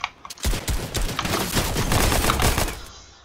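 A loud crack of gunfire from a sniper in a video game opens a dense, sustained rattle of rapid shots and clatter that continues for several seconds before cutting off.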